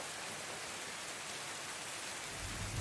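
Steady rain downpour in the Elder Scrolls Online game, a dense continuous hiss of falling water with a faint low rumble swelling near the end, no voices.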